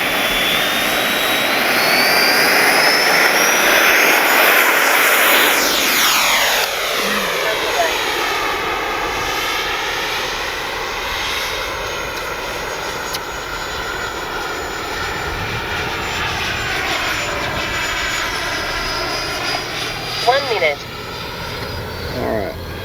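An FMS 70mm Yak 130 RC electric ducted-fan jet on its maiden flight whooshes past with a loud, high whine that sweeps up and down as it passes and circles, steady and fairly close.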